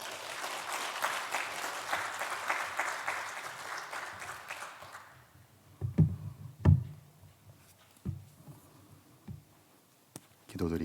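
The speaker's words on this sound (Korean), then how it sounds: "우리 목사님 나오실 때 우리 박수로 환영하겠습니다" A church congregation at a Sunday service applauds to welcome the pastor, a warm burst of clapping that fades after about five seconds, followed by scattered knocks, clicks and footsteps in a quiet sanctuary.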